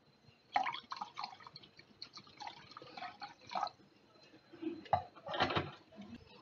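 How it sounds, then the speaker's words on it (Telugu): Coffee decoction is poured into milk in a cup, producing quiet, intermittent trickles and dripping splashes in short bursts, with louder pours near the end. "మా డికాషన్ ఇలా వేసుకోవడమే"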